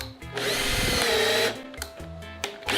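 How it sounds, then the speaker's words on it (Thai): A power drill drilling into a surf skateboard whirs loudly, revving up into a sustained grinding bite for about a second, then stopping and giving a few short bursts. "ตอนนี้เรากำลังทำการเจาะ"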